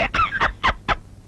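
A bird squawks five times in quick succession, loud, close and raspy like a clucking hen, with brief pauses between calls.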